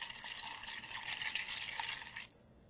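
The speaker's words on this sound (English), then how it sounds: "Stir 12 times." A spoon stirs a mixed drink of orange-flavored vodka in a glass, a steady, close, faint clinking swirl lasting about two seconds before stopping.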